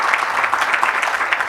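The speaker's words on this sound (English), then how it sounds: "May I request you to give a big hand to all the staff and the mentors, please" Audience applause for staff and mentors at an NCSI 2022 session, a steady dense clapping from a sizeable crowd filling the whole moment, even and unbroken without talk.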